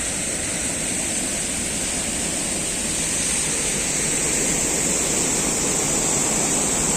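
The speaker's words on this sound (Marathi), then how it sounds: "आत्ता एक आपल्याला इथे मस्तपैकी धबधबा पाहायला मिळतोय" A waterfall in the Konkan countryside roars steadily and loudly, a dense unbroken rush of falling water that fills the whole scene without pause and with no voices over it.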